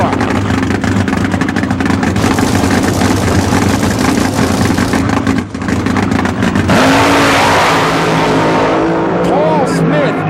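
A 1980s nitro fuel drag racing car, Paul Smith's, thunders down the strip uncontested after being left in smoke at the starting line, a loud, continuous engine roar that stays close and unbroken throughout, with a changing tone toward the end.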